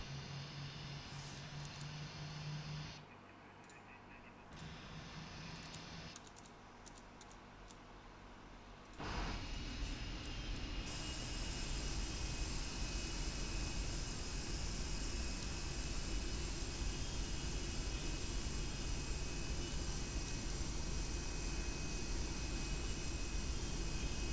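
Simulated Boeing 747-8F jet engines 3 and 4 running in a flight simulator, a steady loud broadband roar that swells after a brief quieter dip and then holds constant, with no talking.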